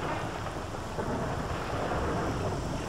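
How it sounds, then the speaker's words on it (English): A thunderstorm in the video game STALKER: Clear Sky, set in the Red Forest, gives a steady, loud wash of rain and rumbling thunder that fills the whole moment without any talk. "Wow, gorgeous lightning."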